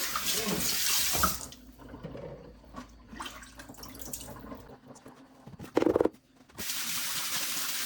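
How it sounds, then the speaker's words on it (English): A kitchen sink tap runs water loudly at the start and again near the end while the sink is cleaned after preparing oxtail, with quieter washing and a brief splash in between. "we just want to clean up the sink after we're through"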